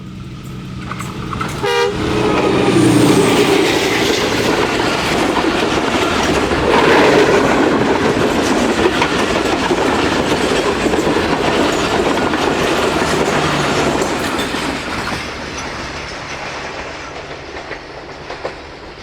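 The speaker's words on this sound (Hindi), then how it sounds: "ट्रेन जो है 40 डाउन जाफर एक्सप्रेस वो आ गई है ZCU के साथ उड़ती हुई" Jaffar Express (40 Down) passes at speed behind a ZCU locomotive near a mountain tunnel in Pakistan, with a loud steady rumble and clickety-clack of wagons, a brief horn toot early on, and a roar fading toward the end.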